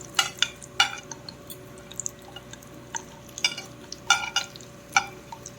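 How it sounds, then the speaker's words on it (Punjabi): Two medium onions frying in a frying pan, a low steady sizzle broken by sharp scraping and stirring clatters of a utensil against the pan, close and without talk. "ਫਰਾਈ ਪੈਨ 'ਚ ਮੈਂ ਦੋ ਪਿਆਜ਼ ਪਾਏ ਆ ਮੀਡੀਅਮ ਸਾਈਜ਼ ਦੇ"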